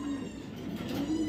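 A racing pigeon coos in a short, close, low rumbling burst that holds steady over about a second, with no talking.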